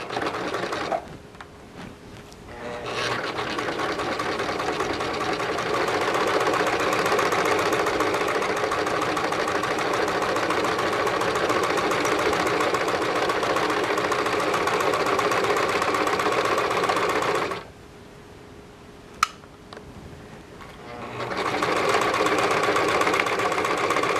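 A sewing machine stitches fabric slowly at a steady whirring, knocking pace for a long stretch, stopping briefly before starting up again, close and alone without talk.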